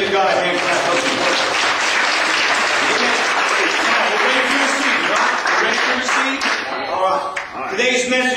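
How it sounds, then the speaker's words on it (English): A church congregation claps loudly and continuously for several seconds, a dense wash of many hands that fades slightly near the end. "Let's give God a hand clap."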